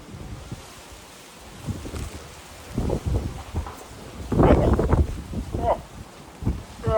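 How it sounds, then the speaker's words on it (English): Gusty wind blows outdoors at an open-air cooking spot, buffeting the microphone with low rumbling surges that swell and fade, strongest near the middle. "Bit breezy today."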